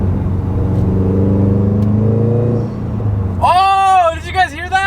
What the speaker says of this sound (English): When you get on it a little bit, you hear a little bit more of that, like that intake noise, like if you have an aftermarket one.